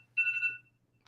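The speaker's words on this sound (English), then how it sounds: "That's my alarm for UK." A phone alarm rings briefly in a room where a sermon is being given, with a steady two-tone electronic chime for about half a second, fairly loud over a low background hum.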